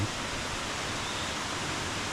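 Seonnyeo waterfall on a mountain trail in a rocky Korean valley pours with a steady broadband rushing hiss, even and continuous at moderate level, no voices.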